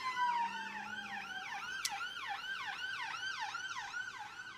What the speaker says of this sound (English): There's another fucking siren going by.